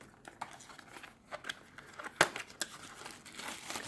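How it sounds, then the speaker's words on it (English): Packaging tape on a box is torn through by hand, a soft run of scratchy crinkling and ripping bursts with one sharper tear near the middle, close and quiet, with no talk. "I'm gonna just tear through it."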